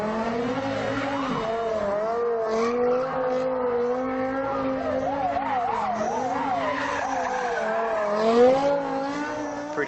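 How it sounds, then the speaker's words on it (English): A simulated car spinning donuts in a physics simulation, with continuous loud tire squeal and skidding that wavers in pitch as the wheels slide, steady engine drone beneath, no voices. "Pretty cool to make your car do donuts, right?"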